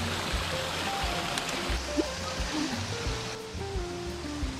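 Yoro Falls in Gifu Prefecture, Japan, pours in a steady broad rush of falling water, with faint voices in the background.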